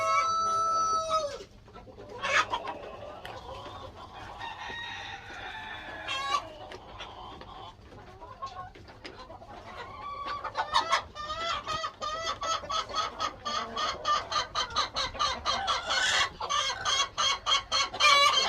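Several hens sit inside farm nesting boxes, clucking and calling close by in scattered bursts that grow denser into rapid, repeated cackling toward the end.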